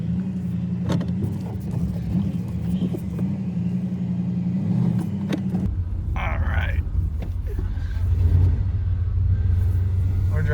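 A 1994 Chevy C1500 pickup truck driving, heard from inside the cab: a steady engine rumble with road noise that deepens and shifts partway through, plus occasional light rattles and clicks.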